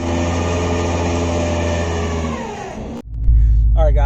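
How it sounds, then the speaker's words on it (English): A Stage 3 tuned Subaru STi idles close by with a steady, even engine drone. Near the end it turns into a sudden, louder and deeper low rumble. "So I'm currently idling the car."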